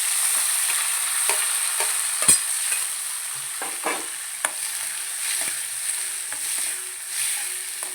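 Chopped tomatoes and chili frying in a pan, a continuous bright sizzle with scattered clicks and scrapes of stirring, close and steady throughout with no talking.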